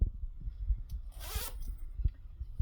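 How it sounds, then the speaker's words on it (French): A large zipper on a sleeveless vest gets pulled in one quick rasping run lasting about half a second, close and clear over faint handling rustle, with no talk. "vous avez un gilet sans manche avec sa grosse fermeture éclair"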